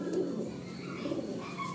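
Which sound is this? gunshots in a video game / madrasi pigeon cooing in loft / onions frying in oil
madrasi pigeon cooing in loft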